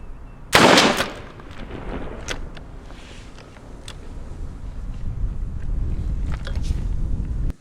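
A Mossberg SA-20 shotgun fires a single Longbeard XR turkey load outdoors, one sharp, loud blast near the start that fades into wind and faint background noise.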